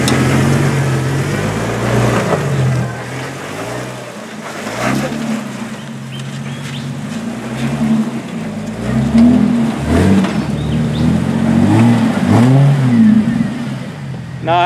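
A 4x4 off-road vehicle climbs a forest track, its engine revving up and down in repeated surges, loud and close throughout with faint voices mixed underneath.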